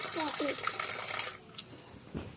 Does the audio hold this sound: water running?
yes